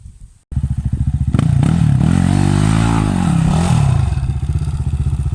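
A trail motorcycle engine idles with a rapid putter, then revs and holds a loud, wavering drone as the rider spins the back wheel around 180 degrees, easing back toward idle at the end.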